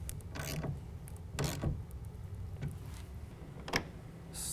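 A Bakflip G2 tonneau cover clamp is tightened on a truck bed, giving a few faint, scattered ratchety clicks and creaks over a low background hum, without talk.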